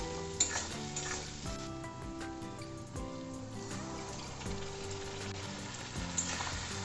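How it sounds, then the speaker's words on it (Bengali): Ground spice paste fries with browned onion and melted tomato for mutton kosha, a close, lively sizzle broken by stirring scrapes and clicks, with steady tonal sounds running underneath. "এরপর আমি বেটে রাখা মশলার পেস্টটা এর মধ্যে দিয়ে দেব।"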